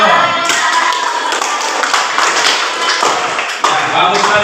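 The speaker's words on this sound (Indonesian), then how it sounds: "Oke, tepuk tangan dulu." A classroom of students bursts into sustained applause, many hands clapping at once in a dense, steady patter during a teaching session, with voices mixed in.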